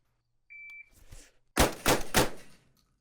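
A MAC-2 submachine gun firing a short burst of three close, loud reports with quick echoing decay, preceded by a brief electronic beep and a softer rustle.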